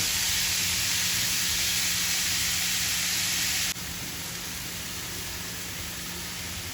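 Onions fry on a high flame, a loud, steady sizzling hiss that drops abruptly to a quieter, even simmer partway through, with no talking.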